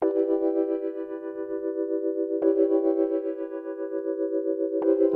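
A BLEASS Omega FM synthesizer on iOS plays sustained, buzzy tonal notes, with fresh attacks at roughly two-and-a-half-second intervals and a gently pulsing, wavering level.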